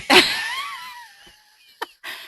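A single sharp human sneeze bursts out loud at the start, then fades into a faint, trailing tail before the room goes quiet.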